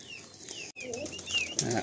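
A Madrasi female pigeon close by, with soft calls and brief rustling or wing movement in a quiet setting.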